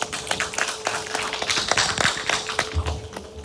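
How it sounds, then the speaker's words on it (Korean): An audience claps for a professor invited to the front at a Jeju welfare-policy research forum. Dense, steady clapping runs for several seconds at moderate loudness with no talk over it. "큰 박수 부탁드립니다"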